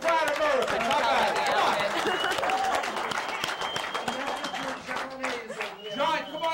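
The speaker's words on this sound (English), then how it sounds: "I think we need a round of applause so we all can be proud Americans." An audience at a midnight show breaks into a long round of loud clapping and cheering that eases briefly, then swells again.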